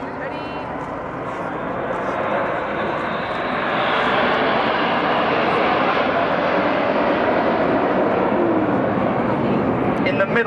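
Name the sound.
Red Arrows Hawk jet accelerating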